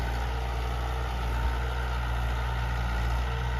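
A Mahindra 475 DI tractor, converted to 45 horsepower, runs steadily with a low, continuous engine drone and rumble throughout, fairly close and without any talk.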